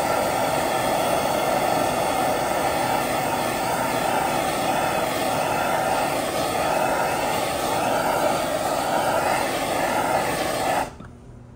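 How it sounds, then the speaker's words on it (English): A torch roars steadily and loudly as it heats one side of a Sea-Doo jet pump wear ring, a continuous rushing hiss lasting about eleven seconds before cutting off abruptly. "We're just gonna heat it up with a torch on one side"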